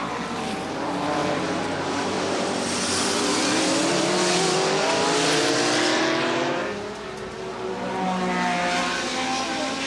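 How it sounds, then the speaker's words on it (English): IMSA prototype race cars at the 1989 Miami Grand Prix street race roar past at speed, a loud sustained engine wail that swells as cars pass close and then fades, with no talking. "Saw the car that's running in 8th place being lapped by Geoff Brabham of Australia"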